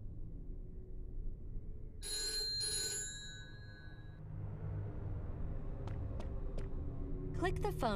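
Phone box telephone ringing in the Devil May Cry mobile game, a bright electronic ring burst over low game ambience rumble, followed by short chiming effects; faint and quiet overall.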